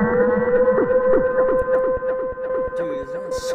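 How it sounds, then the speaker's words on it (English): Low, moaning synthesized tones slide downward in repeated swoops over a sustained drone, giving an eerie, whale-like wail. "Pitched down, it sounds like a whale."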